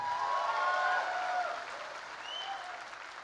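Audience applauding at a political rally speech in Tripura, a dense steady wash of many hands clapping that tapers slightly toward the end, with no talk over it.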